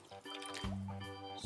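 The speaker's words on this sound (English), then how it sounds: "Let's add some water." Water is poured into a toy blender for a baby doll's pretend juice, giving a faint, close trickle with small dripping splashes and a hollow plastic resonance.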